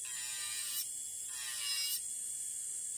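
An electric nail drill files off a gel nail overlay with a steady, close, high-pitched whine that swells twice as pressure shifts, with no voices.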